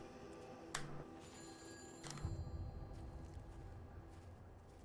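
A telephone ringing in the video game Everybody's Gone to the Rapture, a couple of bright rings at moderate distance over a quiet ambient background with no talk.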